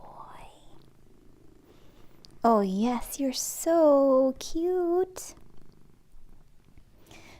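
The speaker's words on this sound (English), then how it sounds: "I'm sure you guys can hear the purring through the mic" A cat purrs in a low, steady rumble throughout, close by, while a person speaks softly and affectionately over it partway through.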